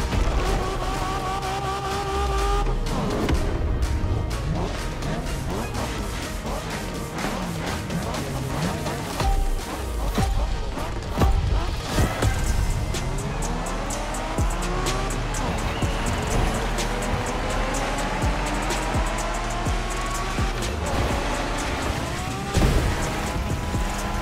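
Cars in The Crew Motorfest Japanese street racing, engines revving and roaring up and down through gears with repeated tire squeals and skids, loud and close throughout with occasional passing whooshes.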